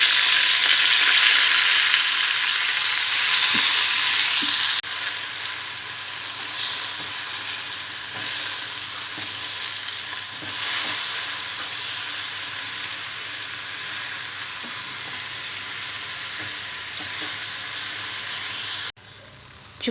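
Sorrel leaves (chukkakura) frying in the same oil used for green chillies, a loud hissing sizzle that surges at first, then settles into a steady crackling fry with faint stirring, close up and with no voices.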